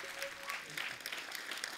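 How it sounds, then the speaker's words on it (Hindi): A television comedy-show studio audience claps for arriving guests, a brief, quiet burst of dense applause with scattered sharper hand claps. "जोरदार तालियां हो जाए एक बार हमारे अतिथियों के लिए।"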